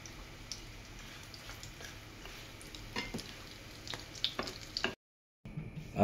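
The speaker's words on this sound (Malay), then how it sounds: "Sebab kita cuma nak goreng dia punya kulit, bukan dah inti dia." Mini murtabak wrapped in popiah skin frying in a small amount of oil, a soft steady sizzle with occasional light crackles and pops, briefly cut to silence near the end.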